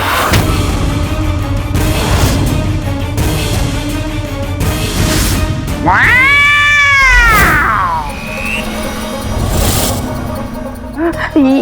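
A cat meows loudly several times, drawn-out rising and falling cries, over background noise and faint voices.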